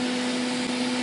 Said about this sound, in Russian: Горение отличное, пылесос работает отлично.